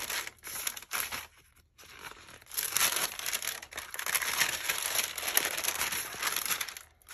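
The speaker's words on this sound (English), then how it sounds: "I love the sound of this paper. This is deli paper." Deli paper crinkled and handled while making collage boards, giving soft, uneven rustling and crackling bursts, with brief pauses between handlings and no voices.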